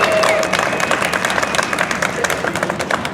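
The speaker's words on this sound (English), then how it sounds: "let's give them a round of applause as well" A crowd breaks into steady applause, dense clapping with some cheering underneath, fairly loud and continuous.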